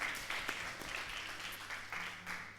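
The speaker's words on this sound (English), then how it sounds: "I want you to all give yourselves a huge round of applause." Audience applause at a student union election results announcement, faint and somewhat distant, a soft continuous patter of many hands that swells slightly in places.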